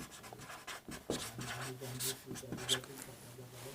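Chalk or marker scratches across a board in short strokes, faint beneath someone talking in Hindi during a class 10 math lesson.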